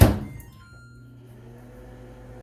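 A microwave oven hums steadily while heating milk for 30 seconds, opening with a sharp thunk of the door or button, then a low, even drone close by.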